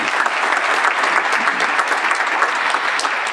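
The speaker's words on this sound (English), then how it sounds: "just a round of applause" An audience at an honorary doctorate graduation ceremony gives a dense, even round of applause, loud and continuous for a few seconds.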